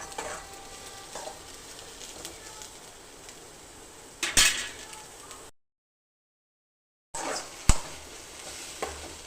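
Onions frying on low heat for tamarind chutney, a soft continuous sizzle broken by scrapes and clanks of a spoon stirring the pan, with one louder metallic knock and a brief silent gap.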